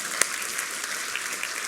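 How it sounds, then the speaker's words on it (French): Brief burst of steady applause from a church congregation, continuous clapping with one sharper clap near the start. "Et on applaudit ce que Dieu va faire ce matin"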